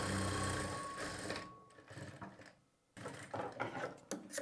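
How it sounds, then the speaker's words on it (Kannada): A sewing machine runs a straight stitch along a half-inch seam margin on a sleeve, whirring in close bursts that pause briefly partway through before the motor picks up again. "ಆ ಮಾರ್ಜಿನ್ಗೆ ಸ್ಟ್ರೈಟಾಗಿ ಸ್ಟಿಚ್ ಮಾಡ್ಕೊಳ್ಬೇಕು"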